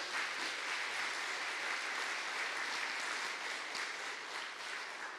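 A church congregation applauds visiting guests during a Sunday service, steady dense clapping from the whole room at even volume throughout, with no one speaking over it.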